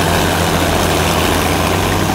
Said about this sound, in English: Hear the engines roar,